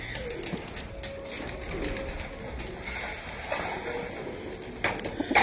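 A prized pigeon in a home loft coos softly and repeatedly against a light background rustle, fairly close, with no talking.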